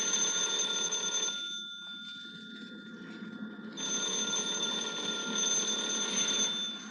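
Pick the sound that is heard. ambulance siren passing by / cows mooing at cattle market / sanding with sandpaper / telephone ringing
telephone ringing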